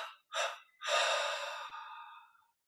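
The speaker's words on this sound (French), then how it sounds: "Prenons maintenant une inspiration profonde" Deep breathing during guided meditation: a short sharp inhale, a second quick intake, then a long, soft, fading exhale, close and quiet with no voice.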